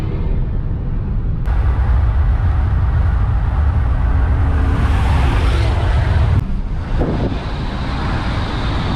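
Inside a Dodge Challenger R/T with a 381-horsepower V8 cruising on the motorway, a loud, steady road and engine roar fills the cabin while another car overtakes, its rushing swell rising and fading after about six seconds.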